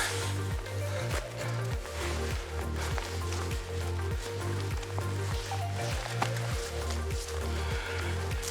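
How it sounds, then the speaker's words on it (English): Rain falling in autumn woods on a cloudy day, a steady dense patter of drops across the whole stretch with no voices, joined by a regular rhythmic low thumping throughout. "Raining."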